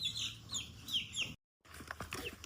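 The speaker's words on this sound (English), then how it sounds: "Roosters first. All right, roosters." Rooster clucking and calling on a rural Jamaican farm, several short bright bird calls over a low background rumble, broken by a brief silent gap before more scattered clucks.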